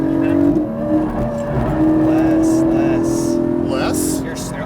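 A Porsche Cayman GT4 engine pulls hard on track after an upshift, a loud sustained drone rising in pitch, with faint tire noise and a voice speaking over it.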